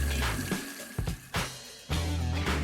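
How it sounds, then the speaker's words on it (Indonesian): Lukewarm tap water runs from a faucet to rinse out a clogged drain pipe. It plays as a steady close wash of flow, broken by brief pauses or shifts. No one speaks. "buka keran dan biarkan air suam-suam kuku mengalir sekitar semenit"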